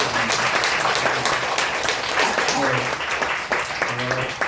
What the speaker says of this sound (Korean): 격려의 박수 한번